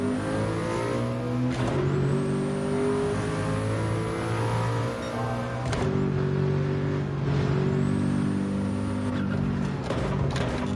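A race car engine roars steadily at around 200 mph in Gran Turismo, loud and close, with a sustained high-revving drone, brief shifts in pitch and short dips around gear changes.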